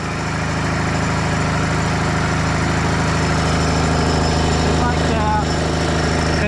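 A farm equipment engine runs with the choke pulled partly out, giving a steady, close, loud mechanical drone with an even rhythm and no pauses throughout.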